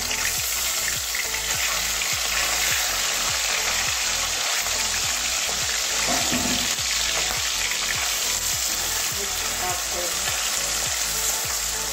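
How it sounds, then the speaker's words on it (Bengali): Pieces of bhola fish fry loudly in a pan, giving a dense, continuous sizzle that stays strong and close from start to finish. "তো আস্তে আস্তে করে ভেজে নেব। এবারে মাছগুলো উল্টে দেবো।"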